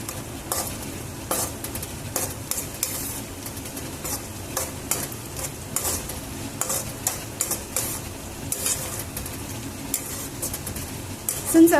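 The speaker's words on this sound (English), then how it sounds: "keep stirring them till both of them turn translucent" Chopped onions and green chilies fry in a pan with salt, a steady sizzle broken by frequent scraping and tapping strokes of a spoon as they are stirred close by; no one speaks.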